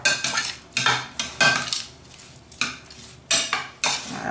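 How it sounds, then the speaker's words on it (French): A spoon stirs roasted cherry tomatoes with olive oil, clinking and scraping against the dish in quick irregular strokes, close and clear with no talking. "On va mélanger tout ça."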